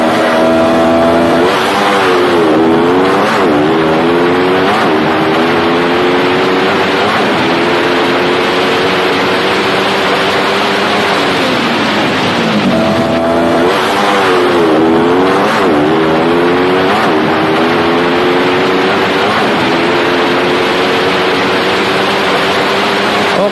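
Powerful trail bikes race at a trail-bike event in Mindanao, their loud engines revving hard in repeated rising and falling sweeps as they pass close by, continuous over the whole stretch.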